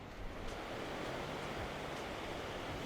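Steady rush of Lake Michigan surf washing onto a beach in Wilmette, Illinois, a continuous broad roar with faint swells rising and falling beneath it.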